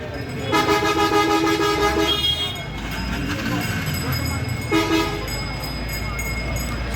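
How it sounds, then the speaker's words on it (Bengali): Busy platform ambience at Sylhet railway station in Bangladesh, with a loud horn blaring twice, the second blast shorter, over rumbling engines and crowd noise with voices talking throughout. "Sylhet rail station"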